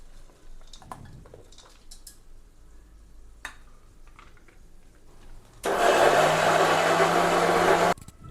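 A mixer grinder whirs loudly and steadily for about two seconds, grinding cooled onions with masala for a chicken and egg curry, after a stretch of faint clicks and handling noises.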